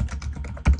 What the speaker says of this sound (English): You can simply click in the various field and start typing.